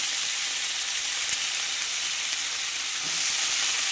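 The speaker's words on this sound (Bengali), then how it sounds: "একটু পাঁচফোড়ন দিয়ে এটা ছকে দিলাম" Panch phoron spices crackle and sizzle in hot oil, a close, dense steady hiss with faint stirring scrapes, no talking.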